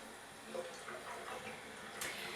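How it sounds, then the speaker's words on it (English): Hot water runs steadily from a sink tap, a soft, even hiss of flowing water heard close and alone with no talking. "the first thing that we need to do is get our hot water running"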